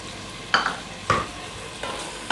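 Green peas are stirred and fried in a pan while making paneer pulao, a quiet sizzle broken by four short spoon scrapes at close range, with no talking.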